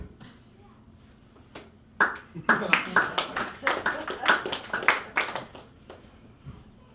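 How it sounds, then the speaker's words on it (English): An audience at a stand-up comedy show breaks into a few seconds of scattered, uneven clapping that builds quickly and then fades out. "I just made everyone clap about that."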